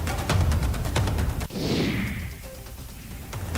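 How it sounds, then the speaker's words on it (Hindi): Diwali fireworks in Alwar district crack and bang in a rapid series of sharp reports, with one louder burst followed by a whooshing fizz and more scattered pops. "दिवाली के मौके पर प्रतिबंध के बावजूद अलवर जिले में जमकर आतिशबाजी हुई।"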